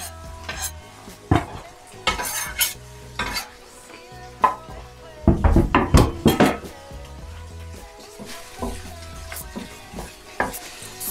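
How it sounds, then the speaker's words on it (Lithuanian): Bacon heats in a pan with a soft sizzle, broken by clattering stirs and clinks of a utensil against the pan, loudest in a burst midway. "Sudėsim šoninę truputėlį,"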